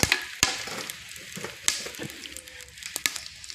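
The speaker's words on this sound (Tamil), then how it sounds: "அது விட்டு சூடானதும் தேவையான அளவு ஸ்பைசஸ்லாம் போட்டுக்கணும். போட்டு சும்மா ஒரு பிரட்டிக்கணும்." Spices frying in hot ghee and oil for a Kongu-style white chicken biryani give a close, steady crackling sizzle, punctuated by a few sharp clicks and pops as they are tossed in the pan.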